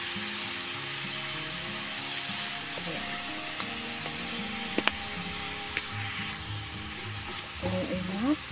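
Chicken pieces sizzle and fry steadily in a hot pan for a simple bihon stir-fry seasoned with black pepper powder, with a few utensil clinks and light scraping near the end, close and continuous.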